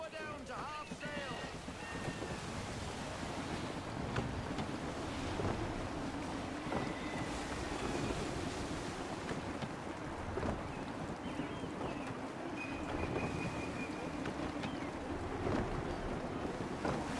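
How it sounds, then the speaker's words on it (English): A sailing ship in Assassin's Creed 3 pushes through gusty wind and rolling waves, with a steady rush of wind and water spray that continues throughout. "Wind looks to be shifting. Stay alert, Connor. Gusty winds can be difficult to manage."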